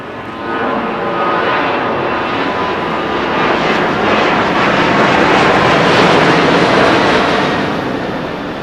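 Airliner landing at LAX in stormy weather, a loud, continuous jet roar that swells and holds for several seconds before easing slightly, with no voices.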